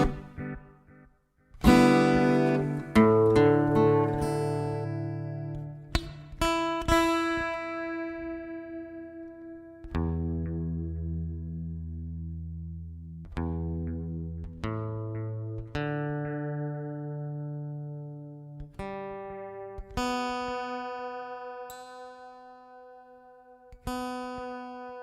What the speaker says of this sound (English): So we just got a clean guitar sound in here. Let's add our Lunar Lander.